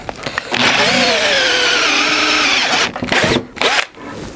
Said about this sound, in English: The last 2 was a 5/8 drill. It just got a hold of it and it takes it straight out.